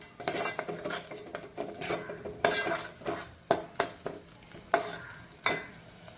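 Ground masala paste being sautéed in a pan for a spicy chicken masala, with a spoon scraping and stirring in steady, fairly loud strokes over a soft background sizzle.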